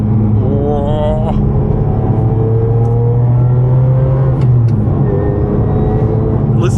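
A Ferrari 550 Maranello engine drones loudly from inside the cabin, with a rising transmission whine climbing in pitch, then dropping and climbing again as the car shifts through gears.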